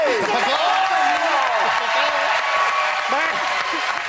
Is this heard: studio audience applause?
yes